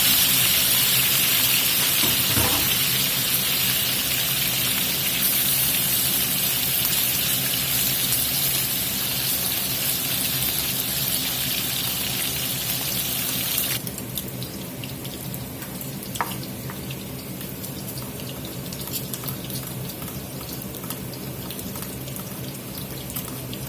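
Pork belly sizzling gently in a pan, not seared hard, giving a steady dense hiss and crackle like running water that holds throughout, dropping slightly in brightness partway through, with a brief clunk near the start.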